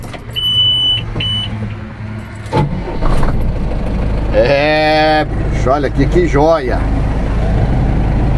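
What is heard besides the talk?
Agrale 7500 TCA truck engine running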